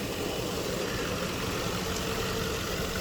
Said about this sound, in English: Let's go turn this truck off so it's not so loud.